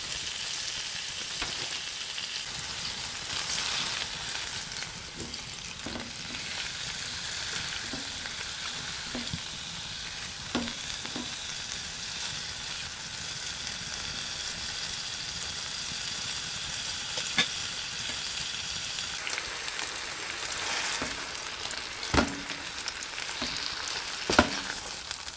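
Pre-seasoned steaks sizzle steadily in a pan at a winter hot-tent camp beside a remote logging road, a continuous close frying hiss with a few sharp clicks and pops.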